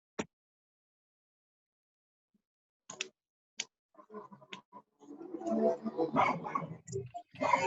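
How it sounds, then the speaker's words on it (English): A pet dog barks indoors during an online webinar, a few sharp, isolated barks spaced seconds apart after near silence, fairly faint, before people begin talking. "Sorry, that's my dog."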